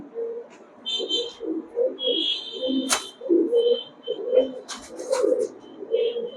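Pakistani Highflyer pigeons coo in a steady series of soft, low, rounded calls close by, with a few higher chirps and faint bird calls mixed in and no talking.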